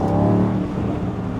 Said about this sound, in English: let's give it some throttle here in the Sport Plus